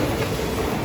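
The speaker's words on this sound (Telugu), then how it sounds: "కాచిగూడ రైల్వే స్టేషన్ వచ్చాం" A train at Kacheguda railway station in Hyderabad gives a loud, steady rumble of rolling wheels and carriages, close by and continuous, with no voices.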